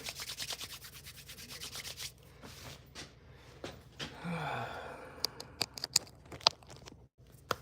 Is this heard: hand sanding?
yes